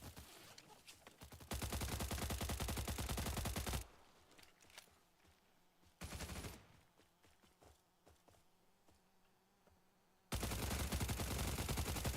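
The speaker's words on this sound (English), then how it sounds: "There's somebody sniping." Gunfire in the Stalcraft video game during a fight near an SBA tank, with dense loud bursts of rapid shots at the start and end and a brief burst mid-clip, separated by quieter stretches of scattered single cracks.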